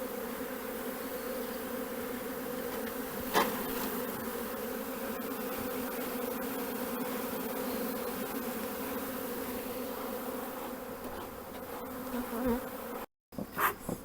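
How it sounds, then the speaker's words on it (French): Honeybees crowd a hive frame during swarming work, a steady close insect buzz and hum holding throughout, briefly cut near the end. "Il y a un peu d'abeilles dessus"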